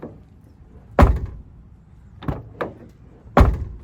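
A Honda car door on a cheap racecar build being shut: three solid thunks spaced apart, with a lighter latch click between them, close and clear with no voices.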